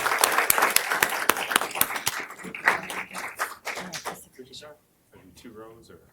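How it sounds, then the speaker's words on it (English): A council chamber audience applauds for inclusion at a proclamation ceremony, a burst of sharp, close claps that thins out over two seconds, then gives way to people talking and shuffling nearby. "Can we give a clap out for inclusion?"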